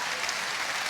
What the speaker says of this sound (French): N'applaudissez pas ça.